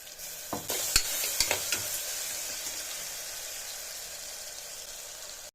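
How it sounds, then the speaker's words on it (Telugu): Onion and tomato fry in oil inside a pressure cooker, a steady crackling sizzle with a few sharp spoon scrapes and taps early on, then an even hiss to the end. "కుక్కర్లో కొద్దిగా ఆయిల్ వేసుకొని ఒక ఉల్లిపాయ టమోటా వేగని వేగనియాల"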